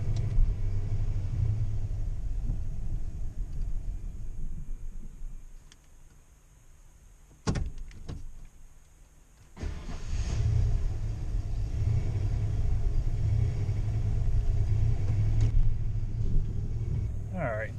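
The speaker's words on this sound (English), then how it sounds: "this is just where this truck is idling" A truck engine idles with a low, steady rumble, dipping briefly in the middle with a couple of sharp knocks before the drone returns.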